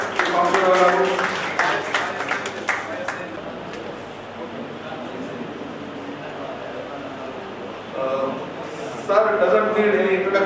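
An audience at a conference invited talk claps for a professor, with bursts of scattered applause at the start and again at the end, and a voice speaking through the quieter middle.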